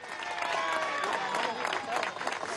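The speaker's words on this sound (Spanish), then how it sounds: "Un aplauso para el pueblo del Guárico y de Venezuela." A crowd at a political rally in Guárico, Venezuela, applauds and cheers in a continuous, dense burst of clapping, with voices shouting within the crowd noise.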